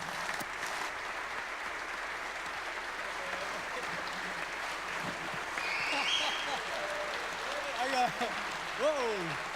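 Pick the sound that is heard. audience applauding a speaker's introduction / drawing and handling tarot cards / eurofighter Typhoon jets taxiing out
audience applauding a speaker's introduction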